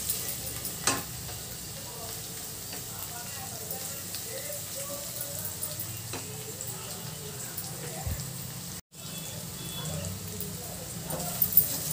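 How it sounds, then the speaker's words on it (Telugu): Ginger, garlic and turmeric fry in a pan for a Dhaba-style chicken fry, giving a steady, low sizzle with occasional stirring scrapes, and a voice talks faintly over it. "పసుపు అల్లం ఎల్లిగడ్డ ఫ్రై అయిపోయిందండి"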